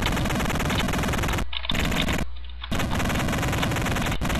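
Rapid electronic gunfire from the NES video game Action 52 as little sword-wielding characters shoot bullets: harsh, buzzy bursts that cut out abruptly several times, with brief gaps of quieter tone between them.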